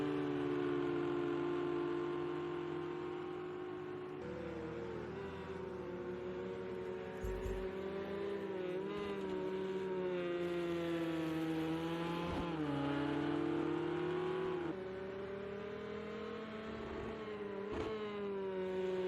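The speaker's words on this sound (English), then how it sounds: "As they head on to the back straightaway, your race leader, Bozak, coming around to complete his 24th" GTE race cars lapping the Dubai circuit, a continuous high engine whine rising and falling with shifts and passing cars, distant and fairly faint.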